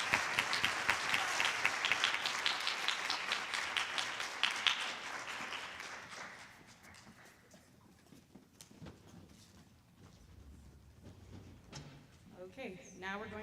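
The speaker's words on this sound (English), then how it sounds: "Another round of applause for our students who lettered." Applause at a high school fine arts night honoring students who lettered: a crowd claps loudly for several seconds, then the clapping fades to scattered hands and room murmur before a voice returns.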